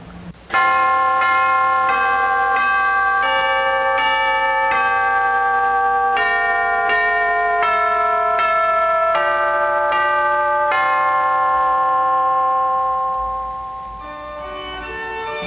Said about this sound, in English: Each chime sounds as a key is played on the great manual or the pedals.